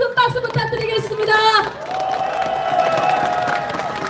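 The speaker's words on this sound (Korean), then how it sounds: "여러분 다시 한번 큰 박수 부탁드리겠습니다" Crowd at an outdoor election campaign launch rally cheers and whoops, then settles into steady applause; a voice is heard briefly near the start amid the noise.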